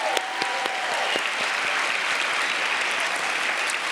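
A large audience gives a sustained, dense round of applause for National Book Award finalists at a literary awards reading, even and loud throughout with a few sharper claps near the start.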